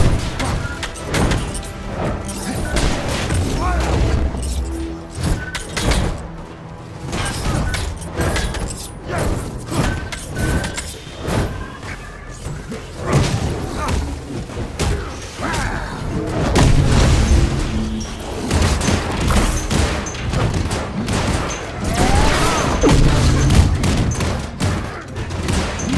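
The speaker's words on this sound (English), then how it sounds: "Server has been destroyed." An AIM server being destroyed in Marvel's Avengers, with dense repeated explosions, booms and rapid gunfire blasts crowding a loud, continuous battle mix with layered music and effects.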